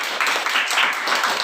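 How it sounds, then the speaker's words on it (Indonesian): Classroom applause for a group presentation in a fourth-grade science lesson, a steady wash of many hands clapping together for about a second and a half, moderately loud and without speech. "Kita kasih tepuk tangan dulu"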